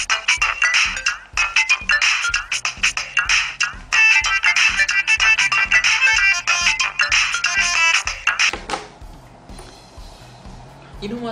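A Celkon C345 phone plays a ringtone loudly through its small speaker: a bright, rhythmic electronic melody with a steady thumping beat that fades near the end.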